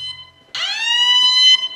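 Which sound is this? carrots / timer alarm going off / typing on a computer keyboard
timer alarm going off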